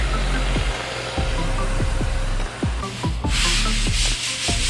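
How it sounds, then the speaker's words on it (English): Steady abrasive scrubbing of very dirty tile and grout with a brush, loud and continuous with a rhythmic series of sharp strokes, heard alone without talk. "Just scrubbing it in there."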